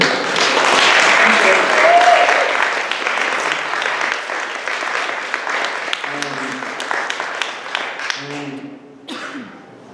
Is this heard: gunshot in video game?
no